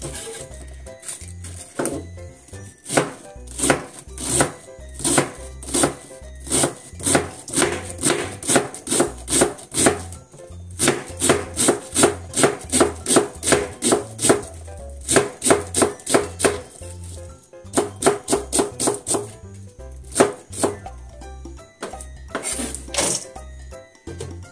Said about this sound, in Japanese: これを全部千切りしていきます。